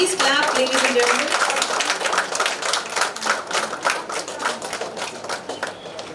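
An audience at a women's awards ceremony claps in a sharp, uneven patter, with a voice and faint tones in the first seconds, thinning out toward the end.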